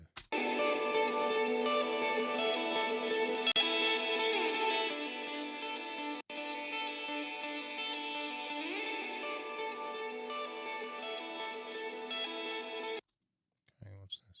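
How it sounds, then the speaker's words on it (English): A sustained rock mix washed in heavy reverb, chords smeared into a long, dense ringing tail before cutting off abruptly near the end. "Too much reverb."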